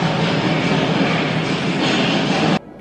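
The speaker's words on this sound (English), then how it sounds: "Oh, there's a train going over the tracks." A train crossing a railroad trestle, a loud continuous rumble with rhythmic clickety-clack of wheels on rails, close by and steady before cutting off abruptly near the end.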